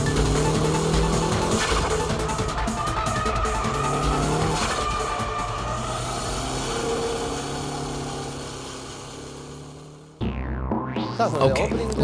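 Toyota AE86 Hachiroku drifting with smooth countersteering, a loud engine note and continuous tire squeal sustained for about ten seconds before a sharp cut to a brighter, rising engine sweep near the end.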